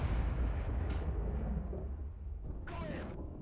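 Type-60 SPRG recoilless guns firing in War Thunder simulator battles, a deep continuous rumble with two bright blasts, one near one second and a louder one near 2.7 seconds, no talk.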